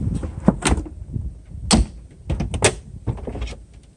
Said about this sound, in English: Just open the roof real quick.